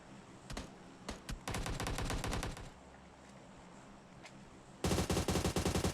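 Bursts of automatic gunfire in PUBG Mobile, loud rapid volleys near the start and a dense, sustained burst at the end, with scattered single shots and quieter gaps between.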